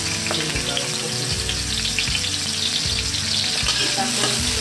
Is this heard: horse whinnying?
no